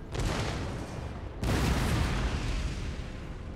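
Cannon artillery fire during the defence of Brussels in the strategy video game Napoleon Total War, a dense rumbling barrage of booms that swells into a second, louder burst midway and keeps rolling to the end, with no talk over it.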